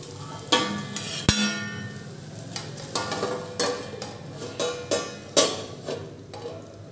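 Rava uttapam cooking in oil on a pan under a lid gives a steady low sizzle, broken by several sharp clicks and scrapes. The louder tap near the start stands out, and no one speaks.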